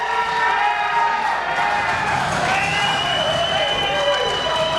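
A wrestling show crowd roars and cheers continuously in an arena, dense and loud, while a commentator talks excitedly over the noise.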